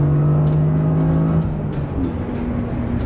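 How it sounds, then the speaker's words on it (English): A Toyota GR Corolla engine pulls hard through the gears, a loud steady engine note that drops in pitch at a quick upshift midway and then climbs again. "it's just as easy to snap through the gears at the limit"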